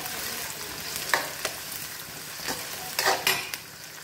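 Chopped onions and shallots sautéing in a pan for mutton liver fry, a steady close sizzle with occasional scraping stirs of a spoon against the pan, no voices.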